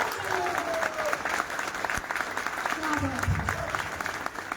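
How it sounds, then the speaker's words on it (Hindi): Steady applause from an audience at an indoor training event, dense clapping that continues throughout with a bit of crowd noise underneath. "मैं चाहूंगी एक बार शानदार, जानदार, धमाकेदार, my life changer, my mentor and गुरुओं के गुरु"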